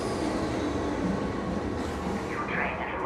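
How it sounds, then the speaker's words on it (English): A train arriving at a station in the ARC Raiders video game, a steady loud rumble of rolling railcars with a faint wheel squeal rising near the end. "Your train has arrived."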